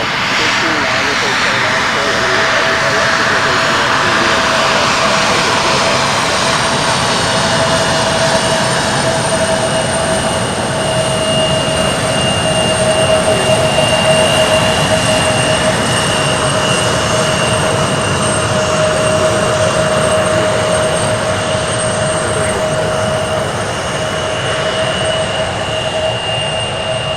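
A jet airliner's engines roar steadily at night at the UPS Worldport airport, with a loud, constant drone and high whining tones held throughout.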